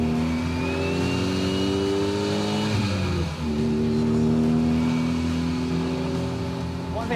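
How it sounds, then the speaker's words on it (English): A race car engine drones steadily while driving on a street, with a smooth mid-pitched hum that dips briefly as the car shifts, then climbs again in a rising rev, loud and close from inside the car. "it's quite a smooth ride for like a race car on the street"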